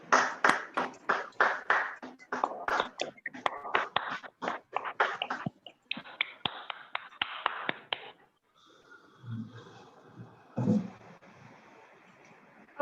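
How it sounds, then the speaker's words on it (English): A meeting audience applauds a Toastmaster named Gopal after his icebreaker speech, steady close hand clapping for about eight seconds that then stops, followed by faint room noise and a few soft knocks. "please give him a round of applause"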